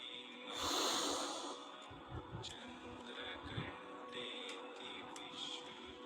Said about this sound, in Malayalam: ശ്വാസം ദീർഘമായി എടുക്കാം